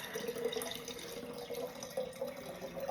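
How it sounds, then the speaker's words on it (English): Kefir water poured slowly into a jar for homemade soda pop, giving a close, quiet, continuous trickle and splash of liquid with gurgling variations throughout. "I'm just gonna pour this really slowly, making a mess all over."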